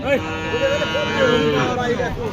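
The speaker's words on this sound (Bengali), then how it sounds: "দেশি দেশি জাতের একটি আয়রা বাছুর" A young indigenous calf lows at a busy cattle market in Sirajganj, a close drawn-out moo rising and falling, with crowd chatter and other voices in the background.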